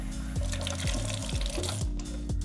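Sink tap running over De'Longhi Stilosa espresso machine parts being rinsed, a continuous close splashing and gurgling of water with shifting bubbly tones.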